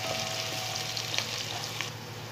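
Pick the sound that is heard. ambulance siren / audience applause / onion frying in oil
onion frying in oil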